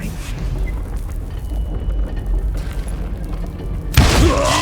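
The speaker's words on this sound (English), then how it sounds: "All it takes is one tiny spark, and boom." Loud, deep boom of a dynamite explosion in the Western shooter Call of Juarez: Gunslinger, a sustained low rumble that swells sharply near the end into a heavy blast.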